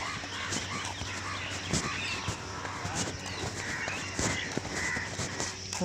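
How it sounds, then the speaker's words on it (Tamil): Crows caw repeatedly amid a dense early-morning chorus of other birds, loud and continuous over a steady low outdoor hum during a dawn walk, with calls overlapping close and far. "எல்லா பறவைகளோட சத்தமும் வந்துருச்சு"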